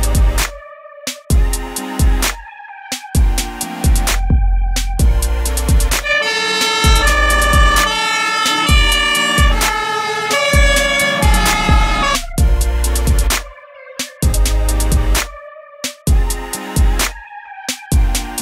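A toy fire ladder truck siren wails in a loud electronic warble, with repeated sharp clicks and button taps before and after the siren sequence.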